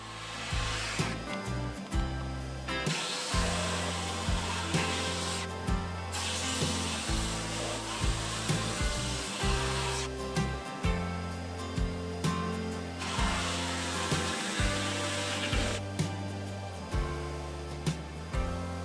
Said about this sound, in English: The drum sander had a new 80 grit loading, and it took no time to get each ring smooth and level.